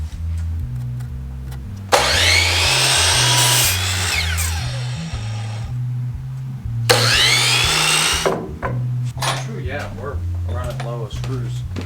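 A power drill drives screws into the roof of a skoolie bus under conversion, two long loud whirring bursts separated by pauses, with people talking around and between them.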